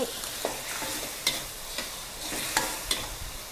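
Minced pork stir-fries with sauce in a pan, giving a soft continuous sizzle punctuated by sharp clicks and scrapes of a utensil against the pan every half second or so.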